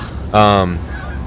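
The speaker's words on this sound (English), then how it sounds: "Canada geese, what a sight." One loud, nasal Canada goose honk rings out nearby, brief and brassy, over steady background noise.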